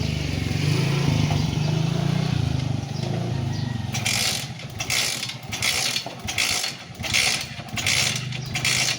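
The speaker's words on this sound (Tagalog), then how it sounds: "Ay paumandar ang ating motor. Ang ating scooter." A brand-new but troublesome Rusi scooter engine cranks with a rough whirring, then catches and idles near the mic with uneven, sputtering pulses and revving bursts.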